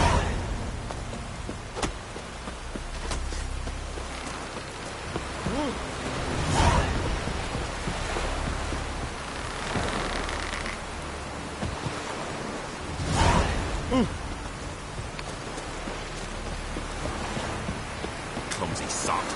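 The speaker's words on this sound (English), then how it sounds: "Oh, raining again." Steady hiss of rainfall in the video game The Witcher 3: Wild Hunt fills the whole stretch, with occasional louder swells and crackles rising above the constant downpour.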